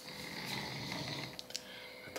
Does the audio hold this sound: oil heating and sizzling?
no